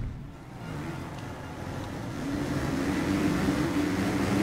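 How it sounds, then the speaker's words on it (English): A motocross bike engine in the MXGP3 racing game, in fifth gear, drones on continuously, a low throaty hum that swells slightly louder halfway through as the bike accelerates. "Okay, bike engine sounds good."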